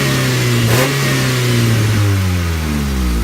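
A car engine, just after its cooling system has been bled, revs up loudly and close, its pitch climbing and falling over a few seconds before settling, with no talking.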